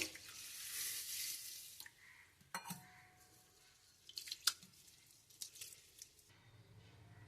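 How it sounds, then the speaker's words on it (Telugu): Rice is rinsed in water in a vessel, with soft splashing, squelching swirls and a few sharp knocks of the pot, fairly quiet and close with no voices. "ముందుగా మనం బియ్యం కడిగి నానబెట్టుకుందాం అండి రెండు సార్లు శుభ్రంగా కడిగేసి నానబెట్టుకోవాలి"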